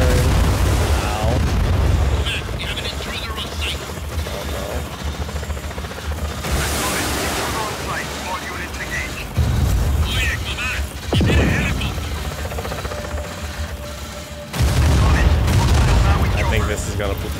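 Just Cause 4 combat brings loud, near-continuous gunfire mixed with heavy booming explosions in repeated surges, with voices faintly underneath.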